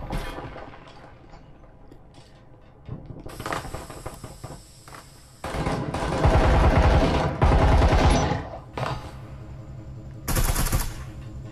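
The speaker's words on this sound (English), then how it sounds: "Sounds like shots are coming from A." Gunfire in the Breachers VR shooter, first as scattered shots, then a dense, loud run of rapid bursts through the middle and one last short volley near the end, with no one speaking.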